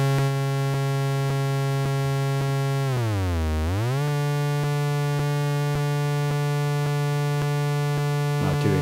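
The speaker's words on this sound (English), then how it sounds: "How does that sound on the square wave output?" A BASTL Tea Kick synth module's square wave output gives a loud, buzzy, sustained tone that dips sharply in pitch midway before returning, alone without talk.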